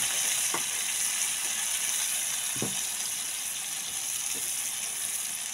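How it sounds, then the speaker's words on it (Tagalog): Chicken adobo sizzles in a pan as soy sauce is added, a steady close frying hiss with a few brief stirring clatters and no voices. "lagyan po natin siya ng soy sauce o toyo"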